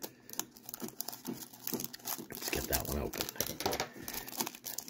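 A 1990 Fleer basketball card pack wrapper being torn and crinkled open by hand: close, busy crackling and ripping bursts of plastic foil packaging across a few seconds, with irregular rustling throughout.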